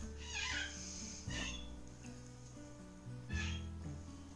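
A cat meows three times, drawn-out cries spaced a second or two apart over a steady low hum, fairly close, with no one talking.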